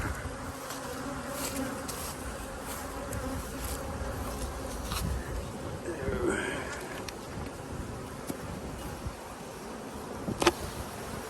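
A steady, dense buzzing of many honeybees swarming close by around a hive, continuous throughout with a few louder passes near the microphone.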